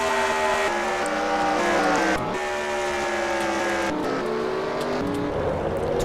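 Stock cars race at Phoenix in the SCRL CatDog Pro Series West Talking Stick Resort 50, a loud continuous engine roar with shifting pitch as several cars pass and brake near a wreck, with no talking.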